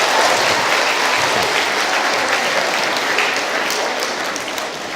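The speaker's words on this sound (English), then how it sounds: "Give him a big round of applause." Loud, sustained applause from a large concert audience greeting a young volunteer at a family event with a conductor, dense and even throughout before easing slightly at the end.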